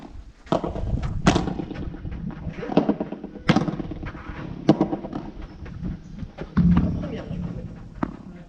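A volleyball struck repeatedly during volley drills, several hard thumping hits spread across the stretch, close by, with someone talking steadily between and over the impacts.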